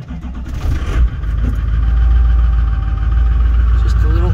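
An LBZ-swapped LLY diesel engine turns over in -18°F cold and catches after about a second, then settles into a loud, rough, steady low rumble that stays close to the microphone.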